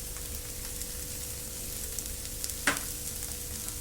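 Bread pakoda filling with spices and fresh coriander leaves sizzles quietly in a pan, a soft steady frying hiss with a single sharp scrape of the spoon partway through.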